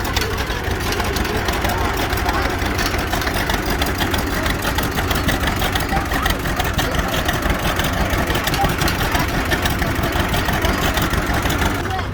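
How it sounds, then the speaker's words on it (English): A John Deere tractor idles steadily at a parade, its continuous low engine chug running close and loud for the whole stretch alongside a constant wash of outdoor background noise. "Another John Deere tractor."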